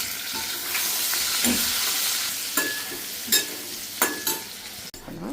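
Chopped green chilies and curry leaves fry in hot oil with a steady crackling sizzle, punctuated by a few clear clinks and scrapes as the pan is stirred.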